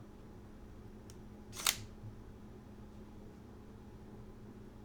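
Sony A7R mirrorless camera shutter firing, heard as a faint tick followed by a sharp, brief mechanical snap over a quiet room hum, loudest near the middle.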